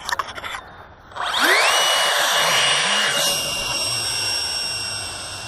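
Small hand-launched electric model airplane motor spooling up to full throttle, a brief handling rattle and then a loud rising whine that settles into a steady high-pitched drone, close by.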